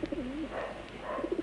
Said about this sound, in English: There's the pigeon there.